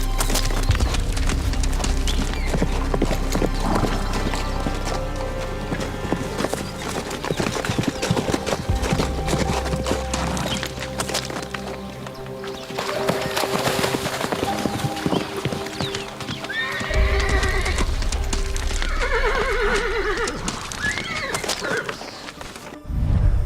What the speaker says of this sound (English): When neither brumby backs down, tensions escalate into an outright brawl.